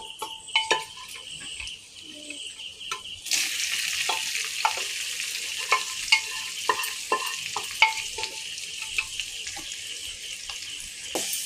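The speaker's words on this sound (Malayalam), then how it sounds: "നമുക്ക് നന്നായി ഇളക്കാം" Beef varattiyathu being stirred in a frying pan, with a steady broadband sizzle that swells partway through and repeated scraping clicks of a spoon against the pan, close up and with no talking.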